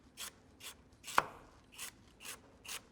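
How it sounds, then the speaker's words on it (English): A knife near the heel slices thin rounds of carrot on a cutting board: six crisp, evenly spaced chops, close and quiet, one sharper knock in the middle, no talk. "And just cutting these rounds of carrots."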